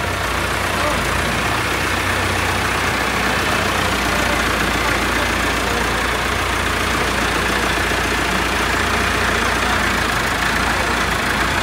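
A Buraq tractor engine running during mechanics' testing, a continuous loud, low diesel idle with a steady rumble, and voices talking in the background.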